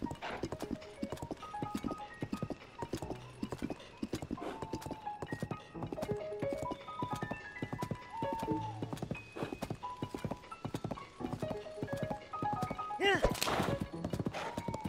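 Video game horse hooves clip-clop in a quick, steady galloping rhythm throughout, and the horse briefly whinnies near the end, from Zelda: Tears of the Kingdom.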